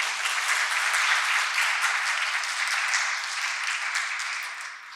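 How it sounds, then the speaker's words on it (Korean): A church congregation claps to welcome a visiting young member during a Sunday service, a dense, even burst of applause that holds steady for several seconds before thinning out at the end. "잠깐 일어나 주신 우리 박수로 환영하도록 하겠습니다."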